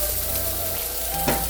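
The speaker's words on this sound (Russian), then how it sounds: "Теперь к нашему тмину добавляется чеснок," Garlic sizzles in hot avocado oil with cumin seeds in a pan, a continuous close frying hiss with a brief louder crackle near the end, no talking.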